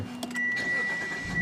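A 2016 Mitsubishi Outlander engine starting: a brief starter crank, then the engine catching and settling into a steady idle, heard from inside the cabin at moderate volume.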